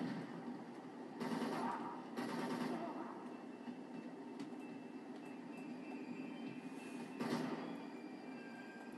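Train rumbling in the video game Uncharted 2: Among Thieves, a steady low clattering roll with louder surges of wheel and carriage noise, sustained throughout without speech.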